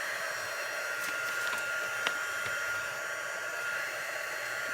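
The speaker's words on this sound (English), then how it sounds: "All right, I'm turning my heat gun back on." A heat gun used for heat embossing powder blows a steady, even whoosh of hot air close to the mic, unbroken for the whole stretch, with a faint click or two audible over the roar.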